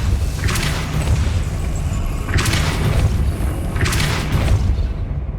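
Depulso force spell blasts in Hogwarts Legacy on PS5, three loud booming bursts about two seconds apart over a constant rumbling game background.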